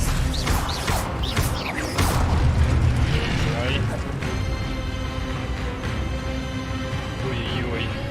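Expelliarmus spell cast in the Hogwarts Legacy video game, bursts of crashing, booming magic effects with clattering impacts over continuous game noise, with speech mixed in.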